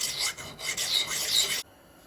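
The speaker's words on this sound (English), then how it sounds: "We'll work it on down with this 600 grit, then we'll switch over to 1000 grit." An old axe being sharpened on a 600 grit stone: close, steady rasping strokes of steel across the stone, several passes in an uneven back-and-forth rhythm, then stopping abruptly into quiet.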